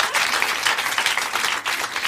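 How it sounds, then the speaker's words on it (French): A live studio audience applauds steadily for two seconds, a dense, even patter of many hands clapping at close range with no talking over it. "Est-ce qu'on peut applaudir parce que franchement"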